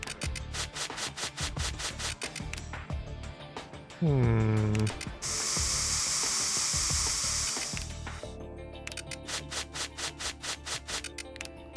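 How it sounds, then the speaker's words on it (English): Spraying in the video game Trauma Team comes as bursts of rhythmic tool-like rubbing and hissing, joined by a rising chime and a sustained bright hiss in the middle, all in synthetic game audio. "So just spray around here, see if there's any extra blood, I guess."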